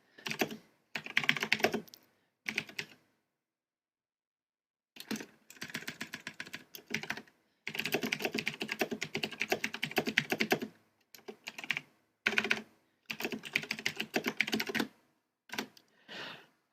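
Someone types on a computer keyboard in quick bursts of clattering keystrokes, close and clear, broken by silent gaps of a second or two between runs.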